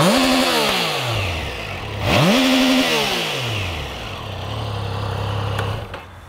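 A Triumph Trident 660 three-cylinder motorcycle engine revs sharply twice, climbing to a high-pitched scream near 10,500 RPM and falling back, then settles into a steady, raspy idle.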